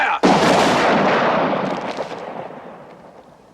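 A single loud rifle volley from a military firing party at close range: one sharp simultaneous crack followed by a long echoing rumble that slowly fades over several seconds.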